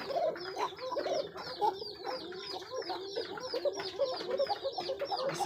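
Pigeons in a loft coo in repeated soft, throaty bursts, several birds overlapping in a steady rhythm at close range, fairly quiet, with no clear talking.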